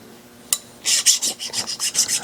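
Metal file deburring a small lathe gear in a workshop: one sharp tap, then a run of rhythmic rasping strokes, close and fairly loud.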